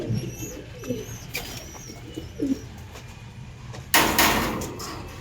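Pakistani-breed pigeons, crossbred loft birds including Kasuri and Malbai types, coo softly in short throaty bursts through the first seconds, followed by a louder sliding or clattering noise near the end.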